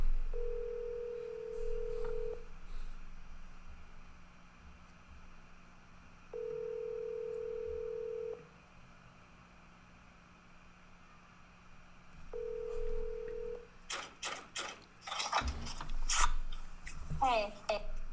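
Telephone ringing tone on a live call-in radio stream: three long, even tones with silent gaps between them, followed by a rapid cluster of clicks and beeps as the call connects.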